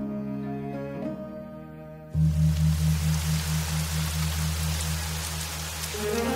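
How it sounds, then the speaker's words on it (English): Heavy rain pours down inside a temple after a sustained musical tone cuts off, a dense, steady hiss of falling water continuing to the end with a low hum beneath. "It's raining inside the temple."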